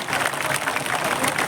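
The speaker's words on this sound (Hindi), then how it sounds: "जोरदार तालियां बजाओ, रुकने नहीं चाहिए ताली चारों तरफ से।" A crowd claps at an event where the chief minister unveils a statue of Bhagat Singh, quick uneven clapping from many hands that is loud and continuous, with faint voices mixed underneath.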